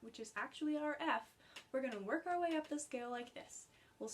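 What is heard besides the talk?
No everyday noises stand out.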